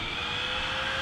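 An ARRMA Infraction 6S BLX RC car on stock setup makes its first speed pass, a steady high electric motor whine with tire and road roar, sustained and fairly distant.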